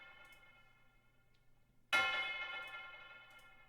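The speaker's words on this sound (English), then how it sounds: "I gotta add my tubular bells" Tubular bells programmed in FL Studio for a trap beat, dressed with delay and a touch of reverb: one loud bright struck chime enters midway over a quiet sustained tone and rings out in a long shimmering tail.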